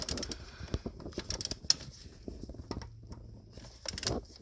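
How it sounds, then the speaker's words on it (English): A 3/8-inch drive swivel-head ratchet turning a shallow 10 mm socket while removing the valve cover on a BMW N62 engine, giving faint, close, uneven clicks and light metallic rattles. "I'm using 10 millimeter short socket, shallow, with 3/8 drive ratchet."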